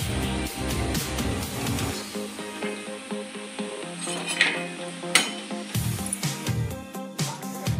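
Karakaddi snack dough pressed through a mould into hot oil over a medium flame sizzles and bubbles steadily, with occasional metal clinks from stirring, close up and without speech.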